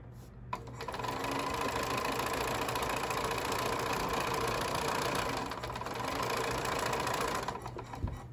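A sewing machine runs steadily while sewing quilt half-square triangles. The close mechanical hum keeps a continuous, even rhythm for several seconds, with brief pauses and clicks at the start and end.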